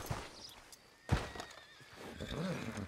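In the video game Red Dead Redemption 2, a horse whinnies loudly with a thud partway through. Faint hoof clip-clop and outdoor town ambience sit underneath.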